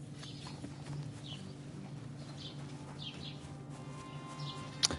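Horse hooves clip-clopping in Kingdom Come Deliverance 2, a steady rhythmic trot at moderate distance with birds cooing and calling in the background.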